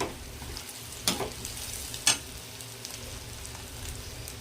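Bitter gourd and onions fry quietly in a pan, a soft steady sizzle broken by two sharper scrapes or stirs of a spoon.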